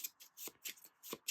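A small deck of king and queen playing cards is shuffled by hand for a solo trick-taking game, giving quick, close papery riffles in short bursts.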